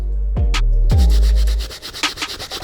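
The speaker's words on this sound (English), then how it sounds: "I'm gonna just skip right to the brass bristle. This brush is gonna save us some time cleaning up these soles." A brass bristle brush scrubs the rubber soles of Nike Air Jordan Cement IV sneakers, giving loud, close, rasping strokes with a couple of short initial swipes and then fast continuous back-and-forth scrubbing.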